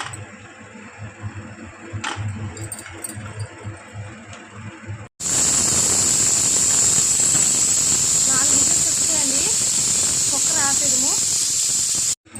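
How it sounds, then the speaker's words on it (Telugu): A pressure cooker of lentils on a lit stove lets out a loud, sustained steam hiss for about seven seconds after a quieter stretch of kitchen sounds, with some faint talk underneath. "స్టవ్ అయితే ఆన్ చేసుకొని కుక్కర్ పెట్టేసాం"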